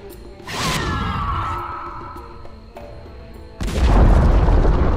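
A Dota 2 tower collapses with a loud deep boom and a crumbling rumble, followed by a second heavy crash of rubble and debris that stays loud until the end.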